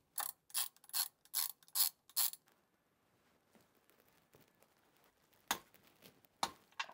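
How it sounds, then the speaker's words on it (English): A ratchet wrench tightens the mounting bolts of a secondary alternator on a vehicle engine, giving six quick loud clicking pulls in steady rhythm. A pause with faint handling noise follows, then two sharper clicks. "then tighten your bolts and torque them to 37 foot-pounds."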